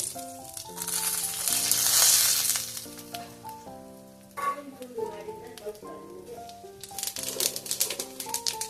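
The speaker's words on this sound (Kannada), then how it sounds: "ಇದನ್ನ ಚೆನ್ನಾಗಿ ಫ್ರೈ ಮಾಡ್ಕೋಬೇಕು." Dates (uttatti) fry in a pan for dry fruits laddu with a soft crackling sizzle, loudest early on, partly under background music.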